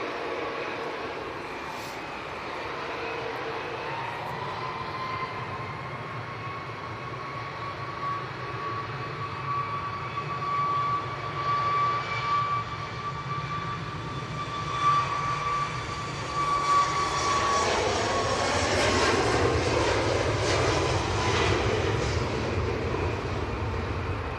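A Ryanair Boeing 737 MAX 8 jet in retro livery rolls for takeoff, its engine roar steadily building with a rising whine and broadening into a loud, sustained rush heard from a distance.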